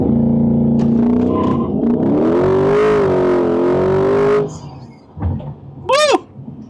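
A C8 Corvette engine revs hard, its harmonic tone climbing and holding high for several seconds before dropping off abruptly, followed by a brief rising whoosh near the end.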